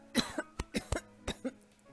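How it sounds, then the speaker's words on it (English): A man coughs heavily in several sharp, harsh bursts spread across a couple of seconds, close and loud, with a brief throat-clearing quality between fits and no speech. "He coughed heavily a few times and had to look away."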